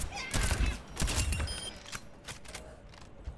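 Baptiste's burst-fire weapon in Overwatch, fired with the trigger held down, giving repeated sharp bursts of gunfire with short gaps between them, close and fairly loud.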